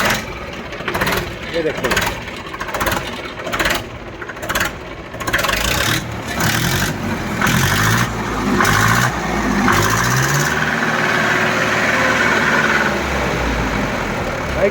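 A second-hand tractor engine cranks over in repeated bursts, then catches and settles into a steady, close idle, with someone talking over it.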